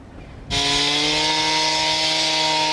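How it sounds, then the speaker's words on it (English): Power saw biting into brick as construction crews fit bricks around newly installed metal bollards; a loud, steady whine starts abruptly after a brief quiet moment and holds without a break. "Sawing into bricks as construction crews are putting the final touches on these bollards and fitting bricks around these metal posts"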